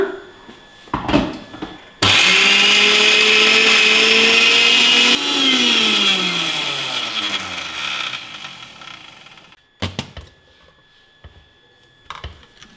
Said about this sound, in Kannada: ಈಗ ಇದನ್ನು ರುಬ್ಕೊಂಬಿಡೋಣ